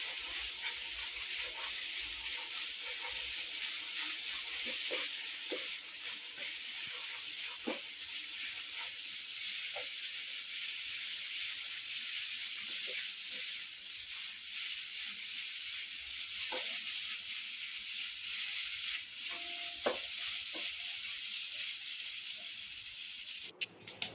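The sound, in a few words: stirring egg noodles frying in a pan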